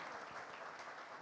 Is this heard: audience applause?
yes